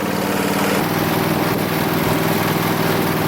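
A Gravely lawn mower engine warming up in a grassy field, running loud, close and steady with a constant droning rumble and no speech.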